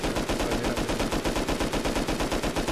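An automatic turret in a video game fires a rapid, steady stream of shots, loud and evenly spaced, running without a break for the whole stretch with no talking over it.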